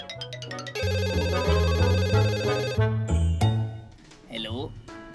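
A phone rings with an incoming call in a Hindi kids' moral story with Dora: a bright, looping electronic ringtone melody plays loudly and cuts off, followed by a brief voice.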